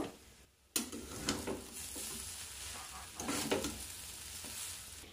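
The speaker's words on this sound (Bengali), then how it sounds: "চাপা খুলে নেড়ে দেব।" Grated carrot mixture for laddu is stirred in a pan over a gas flame after the lid comes off, a sudden rise into steady sizzling with scraping stirs, close and continuous, no talking.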